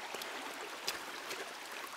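Auger Brook runs beside a woodland path, a soft steady trickle and rush of water heard at a moderate distance, faint and even with a few small splashes.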